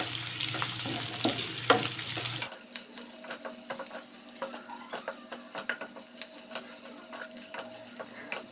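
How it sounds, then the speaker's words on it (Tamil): Onion, dal, ginger and green chillies are sautéed in hot oil for semiya upma, giving a steady sizzle with frequent scraping and stirring clicks. The frying is louder at first and then settles to a quieter crackle. "இது எல்லாத்தையும் சேர்த்து நல்லா வதக்கி எடுத்துக்கலாம்."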